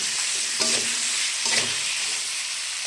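Beef pieces for haleem sear in a pot with a loud, close, continuous sizzle, broken by two stirring scrapes, no voices.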